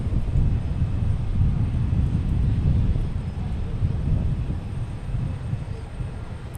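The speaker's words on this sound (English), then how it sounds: "Delta Airlines, Airbus 321, going to Atlanta" A Delta Airlines Airbus A321 bound for Atlanta at Boston Logan Airport, a loud, steady low jet roar that holds throughout with some wind buffeting and no pause.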